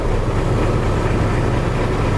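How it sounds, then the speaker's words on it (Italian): A truck engine warms up with a steady, loud, low idling rumble that holds unchanged throughout, with no voices. "Facciamo scaldare un po' il motore."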